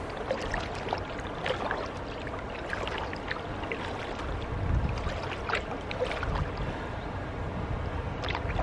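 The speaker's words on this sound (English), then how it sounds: "Let's see how far I can get up here with the double bladed paddle." A pack canoe is paddled upriver with a double-bladed paddle against a quickening current, producing soft repeated water splashes and paddle strokes over a steady rushing flow, near and moderately loud.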